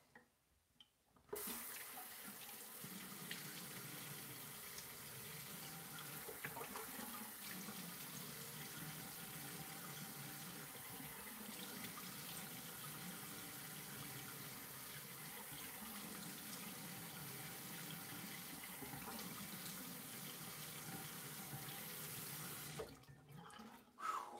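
Steady, very cold water running from a tap into a sink for rinsing while shaving, a continuous close splashing rush that stops abruptly near the end.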